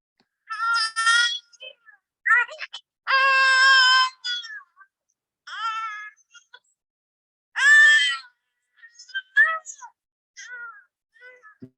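A baby cries in a series of wailing, high-pitched bursts separated by short pauses, close and fairly loud, with no talking.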